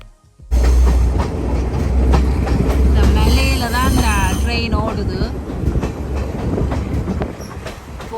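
A train to Hatton in Sri Lanka's hill country rumbles steadily along the rails with rhythmic clatter and a brief high wheel squeal, loud and close throughout.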